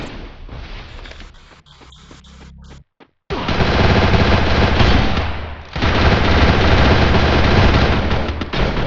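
Video game gunfire: rapid machine-gun bursts, loud and close, with a short lull and near-silent gap before a long sustained barrage of continuous shooting that pauses briefly and resumes.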